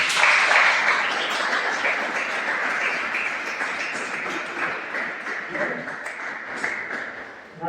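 Dense applause from an audience at a yoga session fills the space steadily, loud at first and slowly thinning toward the end, with a voice faintly present underneath.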